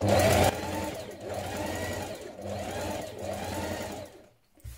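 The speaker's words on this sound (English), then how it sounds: "I'm doing the stay stitching just under a centimetre" A sewing machine runs steadily, stay stitching the seam of a pair of jeans just under a centimetre from the edge, with a loud start, then a rhythmic purring whir in repeated surges before it slows and stops.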